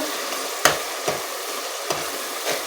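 Tomatoes and onion fry in oil for chicken karahi, a steady sizzle punctuated by four distinct spoon scrapes against the pan at uneven intervals, close and clear with no voices.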